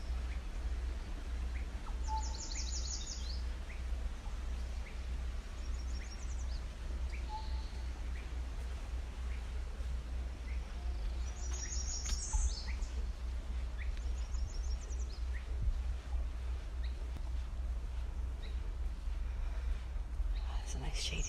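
Birds chirp in an overgrown tree at an outdoor sit spot, short high calls repeating every few seconds over a steady low rumble of background noise.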